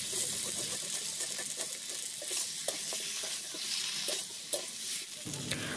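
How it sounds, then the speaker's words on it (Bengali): Cumin paste with Kashmiri red chili powder and other spices is stir-fried in a pan for a cauliflower curry with duck eggs, a steady close sizzle broken by soft spatula scrapes and taps, with no talk. "জিরে বাটাটা দিয়ে আমি এবার ভালো করে কষিয়ে নেব।"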